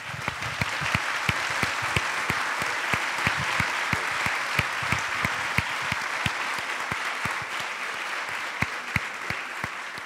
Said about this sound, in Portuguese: podemos estar 2 minutos a aplaudir de pé